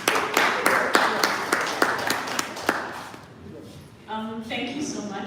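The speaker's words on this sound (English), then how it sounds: "Let's clap for Lucy." An audience at an investment forum in Toronto gives a short round of applause for Lucy, steady clapping that fades after a few seconds, followed by someone speaking.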